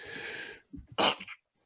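A single sneeze, close and fairly loud: a short breathy intake, then a sharp burst that drops into silence. Nobody talks over it.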